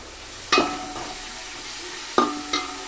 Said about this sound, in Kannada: ಈರುಳ್ಳಿ ಮತ್ತು ಮೆಂತ್ಯ ಸೊಪ್ಪು, ಪುದೀನ ಸೊಪ್ಪು ಹಾಕ್ಕೊಂಡಿರೋದು ಚೆನ್ನಾಗಿ ಫ್ರೈ ಆಗಬೇಕು